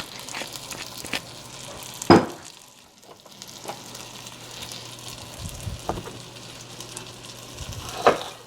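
Steady, crackly sizzle of breaded chicken frying in oil, with a few sharper pops and clatters of a pan now and then.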